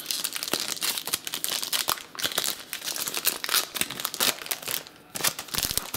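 Close, loud crinkling and tearing of a foil wrapper being ripped open around a pack of Topps trading cards, in irregular sharp bursts with no talk.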